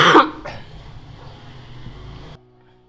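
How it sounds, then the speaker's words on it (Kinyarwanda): A person coughs once sharply, close and loud, and a fainter second catch follows before it fades to near silence. "ndikwa inkorora"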